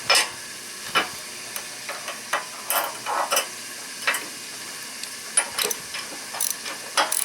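A socket wrench with a 3/4 socket clicks and ratchets while turning bolts on a 42-inch Husqvarna mower deck, bursts of sharp metallic clicks in irregular clusters, close and fairly quiet, with no speech.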